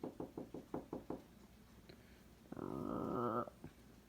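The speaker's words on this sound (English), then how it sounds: "something knocked gently at the door." Gentle knocking on a door comes as a row of six soft, evenly spaced raps, then a pause, followed by a brief low rumbling sound.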